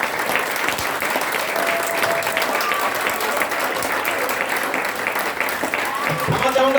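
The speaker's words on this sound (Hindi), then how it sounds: "एक बार जोरदार तालियां दोस्तों" A hall audience claps loudly and continuously to welcome a speaker onto the stage, a dense sustained ovation with a voice talking over it.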